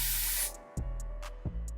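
Hair spray misted onto a lace wig: a loud, steady aerosol hiss that cuts off, followed by a few short separate spritzes, close to the microphone, with no voices.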